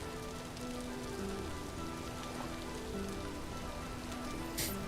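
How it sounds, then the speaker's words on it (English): Steady rainfall on surfaces in the video game Vintage Story, a constant dense patter throughout with faint tonal background music. "It's England with this much rain."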